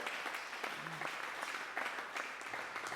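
A church congregation clapping during a French and Lingala worship service, steady dense applause filling the room with a rhythmic pulse, no talk.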